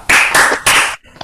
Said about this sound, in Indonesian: Kasih tepuk tangan dong buat Nilu ya